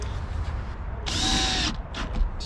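At a car dealership service shop, a power tool whirs for about half a second while driving bolts down, loud and close over a low background hum, followed by faint shop clatter.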